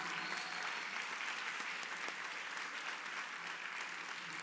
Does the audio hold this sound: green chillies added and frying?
no